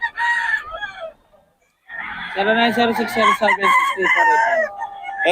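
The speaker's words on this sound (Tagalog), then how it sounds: "Maraming manok to." Several roosters crow loudly and close by, overlapping calls with some clucking; a brief quiet gap separates the first crow from a dense burst of crowing.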